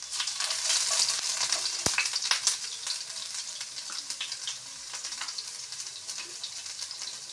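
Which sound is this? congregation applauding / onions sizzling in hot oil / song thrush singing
onions sizzling in hot oil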